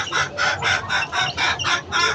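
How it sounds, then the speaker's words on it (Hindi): Chickens cluck in a farmyard in a steady repeating rhythm of about eight bursts, near and clear with no talking. "सारी मुर्गियाँ आ गई है"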